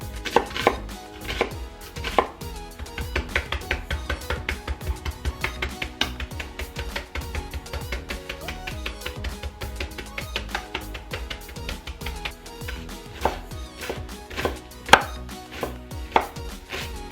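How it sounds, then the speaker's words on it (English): A knife chops onion into dice on a cutting board, rapid, close, steady taps in a continuous rhythm with a few sharper knocks, no voices. "Chop onion in dices."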